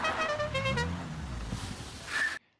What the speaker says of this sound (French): Ah, et vous vous souvenez de cette mode des klaxons originaux?